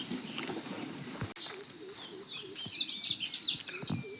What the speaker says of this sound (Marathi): पाखरायचा आवाज तर मगापासूनच चालू झाला